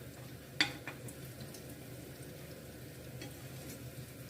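Khrustyky pastry flowers fry in hot oil with a soft, steady sizzle, broken by one sharp clink of a utensil near the start and a few lighter taps.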